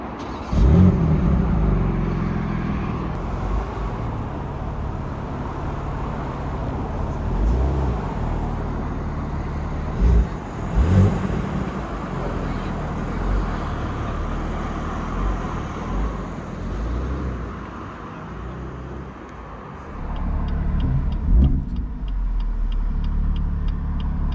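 A BMW M2 G87 on the move, its engine and tyre roar a continuous cabin rumble with a few thumps and swells over about twenty-four seconds, no talking.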